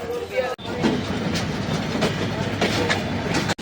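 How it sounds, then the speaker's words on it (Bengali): A passenger train runs on the line toward Joypur station in Bangladesh, with rolling clickety-clack and rumbling carriage noise heard from inside, steady and fairly loud throughout. "এখন জয়পুরে একবার ট্রেন থামলো।"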